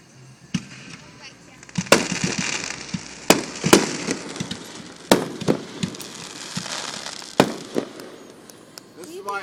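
Fireworks burst outdoors in a rapid string of sharp cracks and pops, some loud and close, others smaller, scattered unevenly over several seconds with crackling between the blasts.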